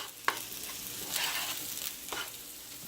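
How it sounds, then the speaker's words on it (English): Garlic pesto chicken gets stirred in a hot pan, a quiet sizzle broken by a few scraping utensil strokes and a sharp tap near the start, with no speech. "I want to mix all of this right here in together."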